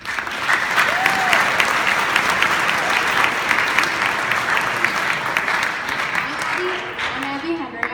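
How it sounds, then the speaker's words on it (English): Sustained applause from a large audience, steady and dense clapping filling the whole stretch without letting up. "So please applaud them for their greatness"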